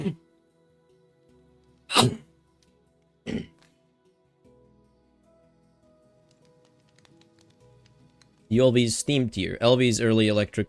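A person sneezes twice, two sharp, loud bursts a little over a second apart in an otherwise quiet room, followed later by someone talking.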